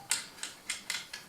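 Bolts on a VAG gearbox are tightened with a ratchet, giving five sharp, close clicks at uneven intervals over about a second, quiet overall.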